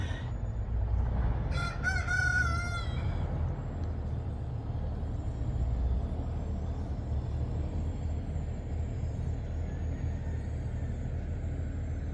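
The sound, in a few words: roosters crowing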